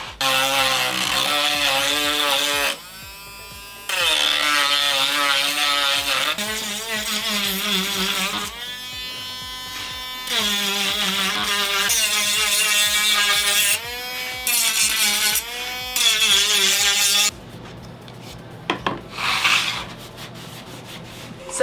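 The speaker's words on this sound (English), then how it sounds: "let's go ahead and sand all these pieces. And let's make a big sanding mess" Laser-cut leather pieces are sanded with a powered sander, giving loud, continuous buzzing and rubbing that breaks off briefly and starts again over about twenty seconds, with pitch shifts as the pressure changes. There is no speech.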